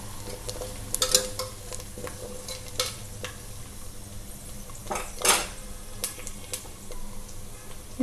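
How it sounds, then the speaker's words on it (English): Curry leaves frying in hot oil for an Andhra village-style fish curry, a steady crackle and splutter under intermittent clinks and scrapes of a spoon against the pan, close and fairly quiet, with no speech. "some spluttering sound of the curry leaves is coming out"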